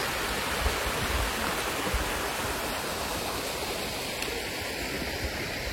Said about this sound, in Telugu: వెళ్ళే దారిలో ఈ స్మాల్ వాటర్ ఫాల్స్